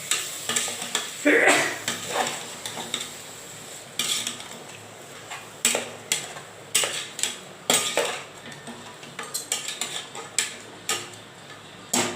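Ghee tomato rice and brinjal ingredients sauté in a pan. A soft sizzle runs underneath frequent sharp metallic clinks and scrapes of a spoon stirring against the pan at a quick, uneven rhythm.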